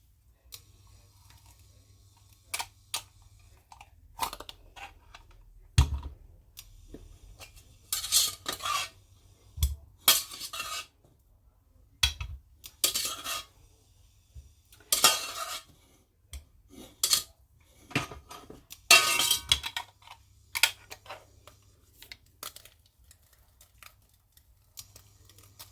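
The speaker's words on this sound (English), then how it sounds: "And this is your potato ricer. It really does work well." Cooked potatoes pressed through a potato ricer for mash, giving a run of irregular metallic clacks, squeaks and scraping bursts at close range, separated by short quiet gaps, with no talking.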